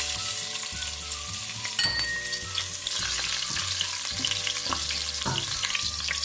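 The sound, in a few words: shallots frying in hot oil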